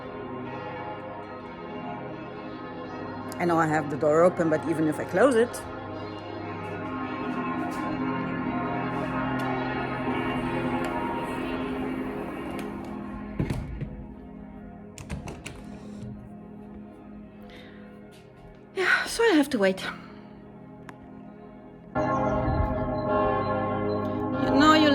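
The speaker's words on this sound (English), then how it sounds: "church bells." Church bells ring continuously in the background in Switzerland at 4 o'clock on a Saturday, a sustained metallic drone of overlapping tones, while a person speaks briefly nearby and other clattering sounds come and go.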